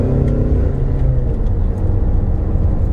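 Ford Mustang EcoBoost engine revving up to about 3,000 RPM while driving, a loud, close, continuous rumbling drone that rises steadily in pitch and holds for a few seconds with no talk over it.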